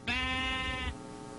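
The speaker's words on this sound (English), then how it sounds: "Black sheep!" A black sheep bleats in the Minecraft video game, a single sustained nasal bleat close up, lasting under a second, alone with no talk.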